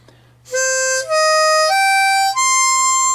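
Three or four sustained notes on a four-hole harmonica in sequence, each steady and bright, the hole 2 blow note sitting noticeably flat from its E, played alone with no talking.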